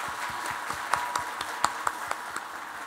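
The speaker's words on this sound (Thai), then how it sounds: "โปรดปรบมือให้ตัวเองค่ะ" An audience at an awards ceremony applauds with a steady, moderate patter of many hands clapping, a few sharper claps standing out above the crowd.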